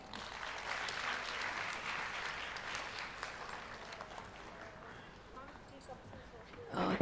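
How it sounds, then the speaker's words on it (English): A conference hall audience at a national education policy event claps in a soft, even round of applause, fading slightly before a voice rises at the very end. "I think we can give a round of applause for her."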